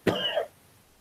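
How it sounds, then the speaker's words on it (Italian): A single smoker's cough, one short harsh bark lasting under half a second, fairly close and followed by quiet room tone. "è tosse da fumo e non da coronavirus"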